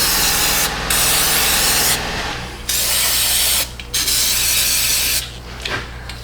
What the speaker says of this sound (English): We're going to give a little spritz in the middle of these bushings too.